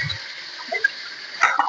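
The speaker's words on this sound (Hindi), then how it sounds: "और कढ़ाई में जरा थोड़ा पानी था जिसकी वजह से आवाज हो रही है।" Mustard oil heating in a kadhai with a little water in it gives a soft, steady sizzle with small pops and spits, quiet and close with no talking.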